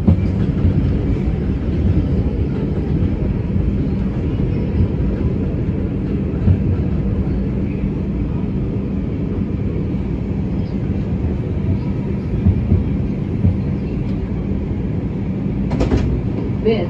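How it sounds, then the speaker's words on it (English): A Manhattan-bound MTA 4 subway train in New York runs with a steady, loud low rumble and roar that holds unbroken throughout, with a brief brighter screech near the end. "This is a Manhattan-bound 4 train."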